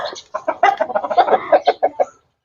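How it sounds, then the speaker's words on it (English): Rhode Island Red and Black Australorp chickens cluck loudly and close by in a quick run of short, choppy calls over about two seconds, then fall silent. "So look at our chickens"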